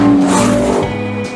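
A Ferrari Purosangue engine pulls hard under acceleration, with a loud, close tone that shifts in pitch over about a second before easing slightly.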